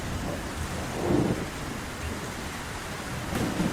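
A heavy cartoon thunderstorm pours steady rain with a constant hiss, broken by two low thunder rumbles, one early and one at the end.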